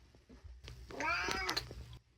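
A house cat lets out a single short meow at close range, quiet and drawn out for about a second in an otherwise hushed indoor room.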